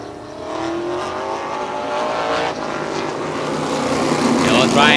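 Race cars roaring around a short oval at Star Speedway in New Hampshire, engines loud and sustained as they battle down the front straightaway, with a commentator talking over the noise.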